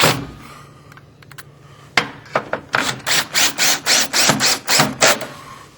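Screws being driven into pre-drilled holes on a Patterns workwall panel: after a few soft knocks, a quick series of about nine short, evenly spaced bursts of driving, close and fairly loud, with no talking.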